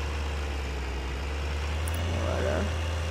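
Tractor engine in a farming video game on an Italian countryside map, a steady low drone running continuously at moderate level, with a faint brief clank near the end.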